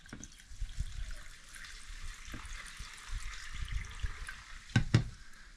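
Water trickles and gurgles as it drains from a shower installed in a van, a quiet uneven flow with a couple of sharper splashes or knocks near the end.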